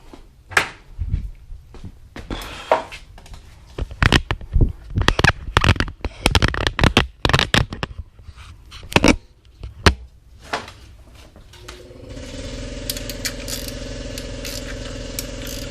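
A wrench loosening two 16 mm bolts on the transmission shield of a Volkswagen GTI, with irregular sharp metallic clicks and knocks nearby, followed by a steady mechanical whir.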